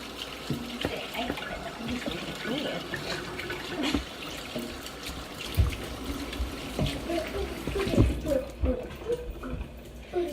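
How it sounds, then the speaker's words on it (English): Hands washed under a running kitchen tap, a steady rushing trickle of water into a sink with small splashes and clatters, close and moderately loud, with faint voices in the background. "So you wash your hands for that."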